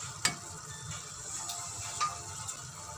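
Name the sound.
onion frying and being stirred in a pan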